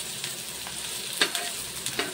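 Stuffed bitter gourd (karela) frying in a pan gives a steady soft sizzle with a few faint stirring scrapes and clicks on top, no voices.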